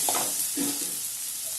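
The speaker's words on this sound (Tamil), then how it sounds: "இப்போ எல்லாத்தையும் மொத்தமாக கிளறி விட்டுக்கணும்" Brinjal thokku frying in oil is stirred in a pan, with soft scraping strokes over a steady sizzle.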